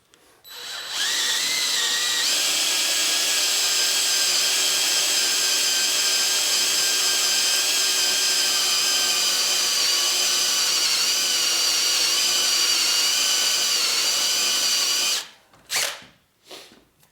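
A power drill bit cuts steadily through metal during a fork and shock rebuild on a 2004 Harley-Davidson FLHT Twin Cam touring bike, whining loud and close for about fourteen seconds before halting, then a few short knocks.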